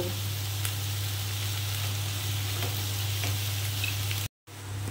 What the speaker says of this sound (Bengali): এবারে ঘিয়ের মধ্যে গাজরটাকে খুব ভালো করে আমি ভাজতে থাকবো।